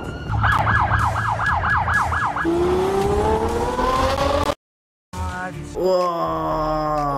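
A police car siren in Miami street traffic cycles through a fast yelp and then a rising wail, loud and close, with a brief dropout before the wail resumes under passing car noise.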